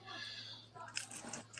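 A dog chews and crunches on something indoors, giving a few soft irregular bites and crunches close by over a low steady hum, fairly quiet overall.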